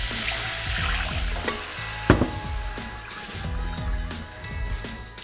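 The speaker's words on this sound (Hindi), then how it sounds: "बस अब पानी से धोना है इसको।" Water splashes and swirls in a new iron kadhai as salt scrubbed into it during seasoning is rinsed out, with continuous sloshing, scraping stirs and one sharp metallic knock.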